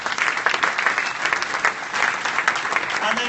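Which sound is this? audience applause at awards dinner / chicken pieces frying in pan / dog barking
audience applause at awards dinner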